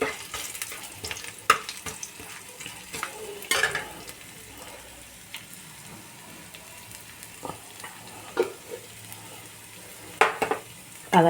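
Chopped ginger sizzling in a little oil for a broccoli and paneer curry: a soft, steady fry with occasional sharp clinks and scrapes of stirring in the pan, no one talking.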